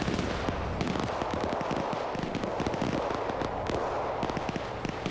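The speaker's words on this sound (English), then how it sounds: "You're taking anti-tank fire from that wood line." Anti-tank gunfire fired from a wood line in a WW2 German-versus-Soviet video game, a dense, continuous crackle of rapid shots and booms layered over a loud, steady battle din.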